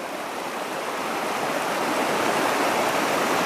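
Steady, dense rush of river water pouring over a trout stream running higher than usual from increased dam release, a continuous broadband roar filling the whole clip at close range with no talk.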